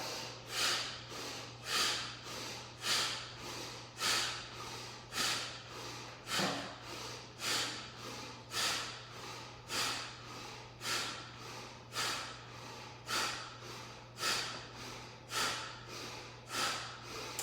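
Deep rhythmic yoga exhalations, roughly one forceful breath per second, repeated steadily and close up, with a low steady hum running beneath.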